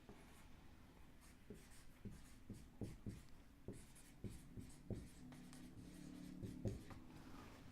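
Pen writing notes on a surface, a steady run of short scratchy strokes and taps, close and fairly quiet, with no talking.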